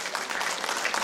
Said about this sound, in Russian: Андрея Колесникова, аплодисменты.